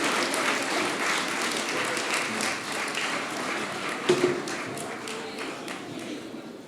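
Sustained applause from a crowd at the closing cocktail of the Raid, a youth raid event, steady and fairly loud throughout with a brief louder burst near the end.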